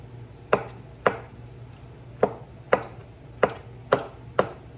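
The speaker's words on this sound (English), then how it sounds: "I'm going to keep chopping these up and peeling tomatoes" Garden tomatoes are chopped with a knife on a cutting board, seven distinct sharp chops at an uneven, unhurried pace over a low background hum, with no talk.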